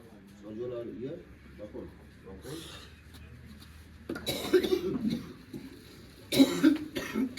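Quiet background chatter in a village in winter, then two loud, harsh coughing fits close by, each a cluster of rough bursts.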